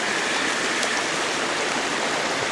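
A small waterfall on a creek pours in a steady, dense rush, close and loud, with no pauses or other sounds.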